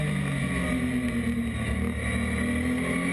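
Porsche GT3 and McLaren 12C GT3 race cars circuit racing in GT Asia 2013, a loud steady engine roar close by with sustained tonal drone throughout, no pauses.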